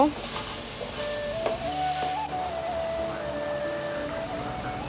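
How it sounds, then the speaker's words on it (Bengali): Red lentils frying in a pan with garlic paste give a soft, steady sizzle, faint and continuous, with light stirring scrapes and no speech. "একটু ভাজা ভাজা করে নিব"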